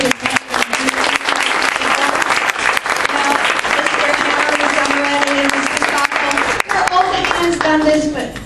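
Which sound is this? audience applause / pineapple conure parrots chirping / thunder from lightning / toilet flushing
audience applause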